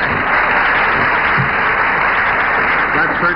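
A studio audience breaks into sustained, even applause heard over an old television broadcast, a continuous muffled wash of clapping with a thin steady tone running above it.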